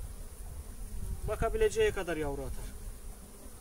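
Honeybees hum low and steady at an opened hive wintered with its bottom open during early spring beekeeping, a close, continuous drone with someone speaking over it midway.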